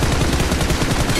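Rapid automatic gunfire in a shooting video game, a dense burst of shots packed tightly together, loud and close, with no talk over it.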